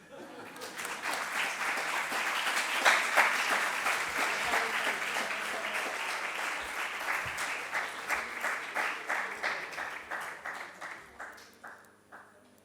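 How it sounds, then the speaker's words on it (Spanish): An audience at a panel discussion applauds, a dense, sustained burst of clapping that swells early, then thins toward the end into scattered individual claps. "Ahora vienen los aplausos."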